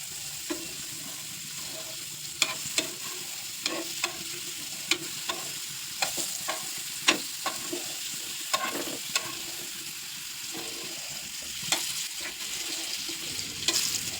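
Potato pieces fry with turmeric in a pan, a soft constant sizzle punctuated by regular scraping clicks of a spatula stirring them, close and moderately quiet, without talk.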